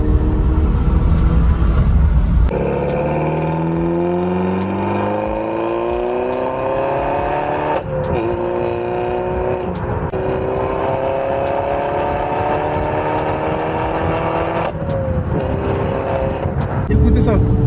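A Peugeot RCZ R accelerates hard, its engine note climbing through several gears with clear shift breaks, loud and close from inside the car, with people talking over it.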